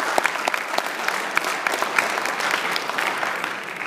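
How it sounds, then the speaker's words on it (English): An audience applauds the Trinity Christian Academy football players at a 2016 U.S. Army All-American ceremony, a steady dense wash of clapping with sharper individual claps standing out, sustained and fairly close with no talk over it. "If you would, please give them a round of applause."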